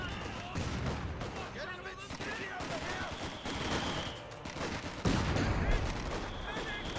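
Gunfire crackles with an incendiary grenade burst in Company of Heroes 2, a steady mix of small-arms bursts and a louder thump near the end, heard under ongoing battle noise with talk mixed in.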